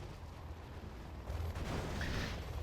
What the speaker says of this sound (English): There you go, artillery's ready now.